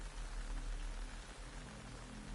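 Steady rain falls in the Metal Gear Solid Delta: Snake Eater game, a dense, even hiss of drops on surfaces with no voices.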